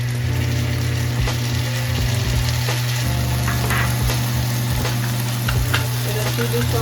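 Soya chilli frying in a pan as tomato sauce is added, giving a steady, loud sizzle with scattered crackles and stirring scrapes throughout, no voices.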